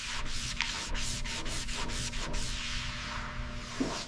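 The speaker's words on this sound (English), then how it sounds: "Wet sanding." Rhythmic rubbing strokes of wet sanding body filler on a Chrysler car body, repeated back and forth at a steady pace, close up, with a low hum underneath.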